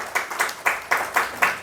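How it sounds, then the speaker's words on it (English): An audience in a college induction lecture hall claps for two students, a steady run of quick, fairly loud hand claps with no talk over them. "Round of applause for both these girls."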